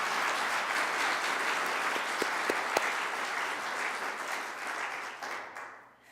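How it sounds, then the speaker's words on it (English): Steady applause from a sizable crowd, dense and continuous, a few sharper claps standing out before it fades away at the end. "for the three that couldn't hold back the applause, do you want to do it right now for Nadine and Dick?"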